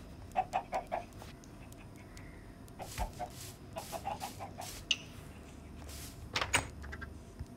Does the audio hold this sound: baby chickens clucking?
yes